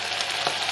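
Cooked rice grains deep-frying in hot oil until they puff and float for crispy salted-fish fried rice, a steady close crackling sizzle throughout with no voices.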